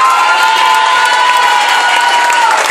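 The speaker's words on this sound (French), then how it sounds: "Un tonnerre d'applaudissements, s'il vous plaît," Crowd at a Miss Prestige Réunion pageant cheers and applauds for Clément, a loud, sustained mix of clapping, shouts and children's cries, with a whistle-like tone running through.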